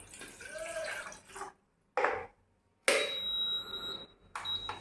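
Water, about one cup, poured into a saucepan in a home kitchen comes in several short splashing bursts separated by silences, with a faint electronic beep tone in the later part.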